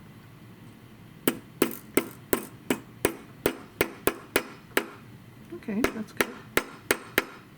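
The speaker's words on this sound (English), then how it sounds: "Let's start with the back using a planishing hammer." A planishing hammer's slightly domed face strikes the back of a metal cuff bracelet: about seventeen sharp, ringing taps at a steady pace, close and clear, with a brief spoken comment in between.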